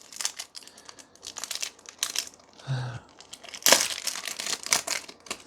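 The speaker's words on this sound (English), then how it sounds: "All right, and our quest for chipper continues with our 92 Series 3 Stadium Club cards. Let's check them out." Crinkly plastic wrapper of a pack of 1992 Stadium Club Series 3 baseball cards being torn open and handled, with close, continuous crackling and crumpling and a sharper rip midway.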